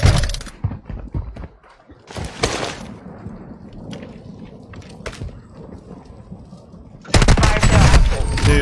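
Gunfire from a video game shooter: loud bursts of firing at the start and in the middle, then a sustained heavy volley near the end, with quieter rumbling between the bursts.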